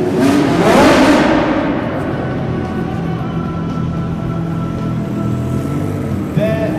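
A Jaguar XJ220C race car revs loudly as it circles a parade roundabout. A sharp engine surge at the start settles into a sustained, rumbling drone at close range.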